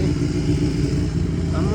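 A motorcycle passes on a road in Nikko, Japan, its mid-pitched engine drone steady and fairly close throughout, mixed with nearby voices.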